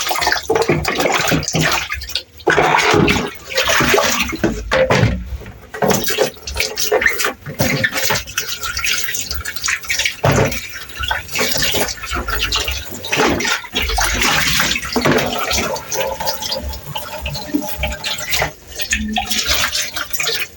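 Tomatoes washed under running tap water in a home kitchen; a loud, continuous rush and splash of water with shifting sloshes, close to the listener and without talk.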